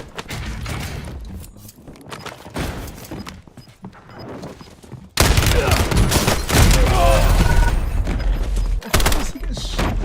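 Video game gunfire crackles in bursts, with quieter scattered shots first and then a sudden louder stretch of rapid fire and impacts that continues to the end.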